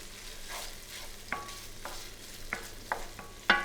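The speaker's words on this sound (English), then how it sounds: "add 200 grams or 7 ounces of pancetta cubes and fry for about 3 to 4 minutes until they're starting to crisp up" Pancetta cubes fry in olive oil in a frying pan, giving a steady, fairly quiet sizzle broken by a few sharp metallic clinks of a utensil against the pan.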